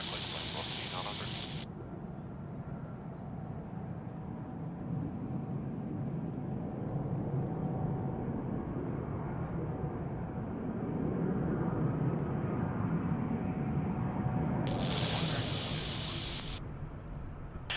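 An airplane lands on runway 34 right at Sydney Airport, a steady distant jet roar building slightly, with short bursts of air traffic control radio chatter at the start and end.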